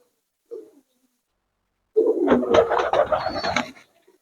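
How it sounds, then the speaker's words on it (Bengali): A golden pigeon kept by a pigeon fancier gives a brief soft note, then after a pause a louder, close, rolling coo lasting about two seconds, with no voices. "এখানে আরো একটা গোল্ডেন কবুতর দেখতে পাচ্ছি"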